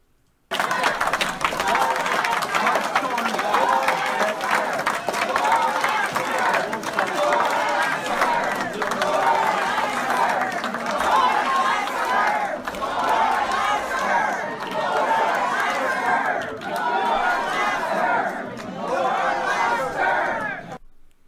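Angry town hall crowd shouting at Senator Joni Ernst, a loud mass of voices chanting and yelling in rough waves with bursts of cheering, continuous and close.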